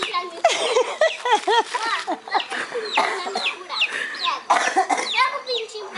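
Chickens and chicks clucking and cheeping busily in a farmyard, close and continuous, with a child's and an adult's voices talking among the birds.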